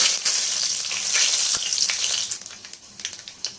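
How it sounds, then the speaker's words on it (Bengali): Dried chilli, torn bay leaf and panch phoron crackle and sizzle in hot oil, a steady close frying hiss with small pops and a few stirring scrapes toward the end, no voices. "এবার ওই তেলের মধ্যেই একটা শুকনো লঙ্কা ছিঁড়ে দিলাম, একটা তেজপাতা ছিঁড়ে দিলাম, আর একটুখানি পাঁচফোড়ন দিয়ে দিলাম। একটু নেড়ে নেবো।"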